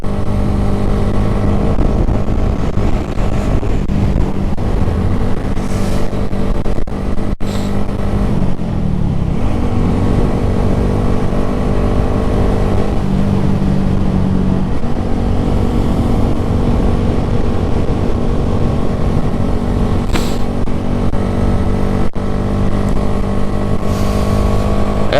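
A red Honda Grom motorcycle runs at full throttle downhill, its small engine droning steadily with shifting pitch beneath loud, constant wind buffeting through the helmet visor, close and unbroken for the whole stretch.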